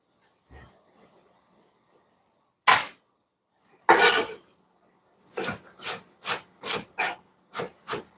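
Ginger pieces being crushed on a wooden cutting board: a few separate dull thuds and scrapes, then a rapid series of sharp, close crunching knocks, with no one talking.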